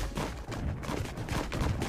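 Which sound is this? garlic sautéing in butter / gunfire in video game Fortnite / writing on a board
gunfire in video game Fortnite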